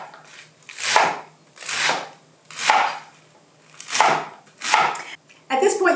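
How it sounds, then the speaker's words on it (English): A knife chops lettuce on a cutting board in five evenly spaced, loud crunching strokes. Each stroke is a crisp, rustling cut close by, followed by a quicker shuffle of cuts at the end. "And then I just chop like this."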